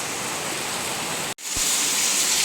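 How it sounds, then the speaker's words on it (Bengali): Heavy rain falls outside a home in a steady, even wash of broadband hiss, loud and continuous apart from one brief dropout midway. "আর ঠিক এই লেভেলের বৃষ্টিটা শুরু হয়েছে এখন।"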